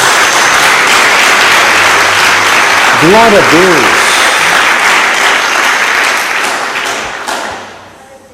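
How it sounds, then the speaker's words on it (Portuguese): A church congregation applauds in a steady, sustained wash of clapping at a worship service, with a voice speaking over it and the applause fading out toward the end. "Dê uma salva de palmas a Jesus."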